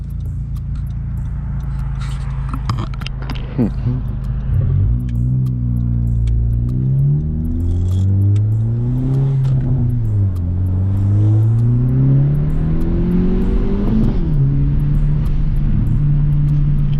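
A 10th-generation Honda Civic turbo fitted with a Ktuner accelerates on the road, its engine note climbing and dropping through several rising pulls, loud and steady inside the cabin with no talk.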